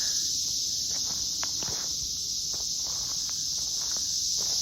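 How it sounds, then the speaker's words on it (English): Cicadas buzz in a dense, unbroken high-pitched drone at night outdoors near a garage construction site with footings being dug, loud and constant, with a few faint rustles and footstep-like knocks beneath. "So hopefully you can hear me over the cicadas. They're everywhere."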